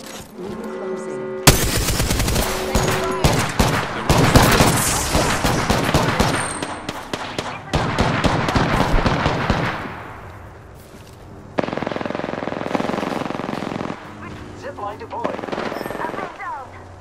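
Bursts of automatic gunfire crackle in the Apex Legends video game: rapid rattling volleys in several long strings with brief gaps, loud and close, with quieter stretches and faint voices between.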